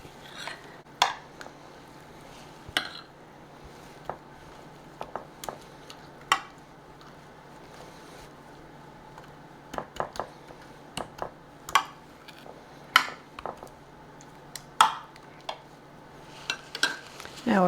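A hot pan being handled while making scalloped potatoes, scattered metallic clinks, taps and clatters of cookware and utensils over a quiet kitchen background.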